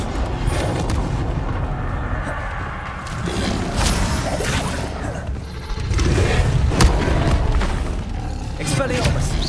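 Incendio fire spells in Hogwarts Legacy combat, repeated booming, crackling bursts chained with other spells, loud and dense over a constant game soundscape with a few sharp strikes near the end.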